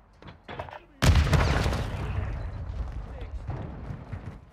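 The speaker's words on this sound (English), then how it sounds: "Throwing frag." A frag grenade detonates in Call of Duty: Modern Warfare II, a sudden loud close boom with a long rumbling tail fading over several seconds, following brief faint gameplay noise.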